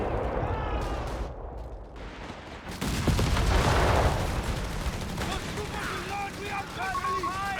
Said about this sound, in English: Wehrmacht coming down this time with a regular barrage